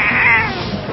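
A white cat meows in a single drawn-out, whiny call that fills the whole second, close and fairly loud with no talk over it.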